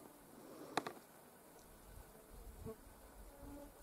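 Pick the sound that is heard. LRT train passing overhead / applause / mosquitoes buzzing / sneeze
mosquitoes buzzing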